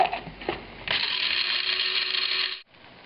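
A grinder works black peppercorns, garlic powder, coarse salt, bay leaf and dried dill, starting with a few short rattling pulses and then whirring in one steady, close burst of nearly two seconds before cutting off.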